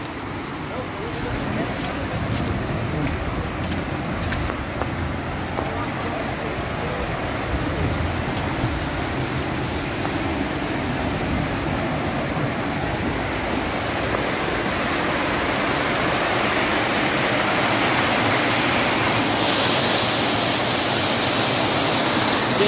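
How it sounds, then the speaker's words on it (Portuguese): Water rushing hard through a street drainage gallery makes a loud, dense, continuous roar that stays steady and swells slightly toward the end. "Tá vendo essa, toda essa água que tá vindo aqui?"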